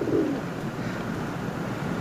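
Pigeons coo softly in a low, brief burrowing call amid a steady background hush, one short warble near the start followed by quieter ambience.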